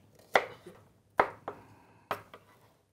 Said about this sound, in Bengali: আমি এখন পেঁয়াজগুলো কেটে দিচ্ছি।